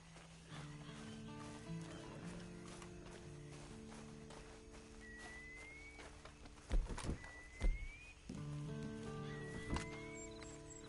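Horse hooves clop in a steady walking rhythm under soft game music in Red Dead, with a couple of louder whinnies and snorts partway through.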